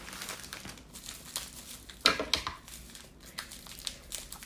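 A small plastic package is crinkled and torn open up close, with bursts of rustling and a sharper rip partway through, no talking.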